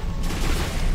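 A space weapon firing in the mech game War Robots, a short, loud, booming energy blast with a dense, rumbling low end and a brief sustained roar.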